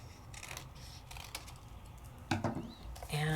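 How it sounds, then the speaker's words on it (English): Paper card stock for a card kit is trimmed with a few quick crisp snips and light tapping clicks over a quiet background, with a louder rustle at the end. "So I can take this and trim this down just a little bit."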